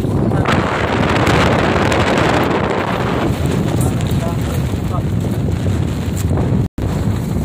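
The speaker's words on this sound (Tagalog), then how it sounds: "malakas na po ang hangin" Strong wind at sea buffets the microphone in a continuous loud roar, with water and boat noise mixed in beneath a brief dropout near the end.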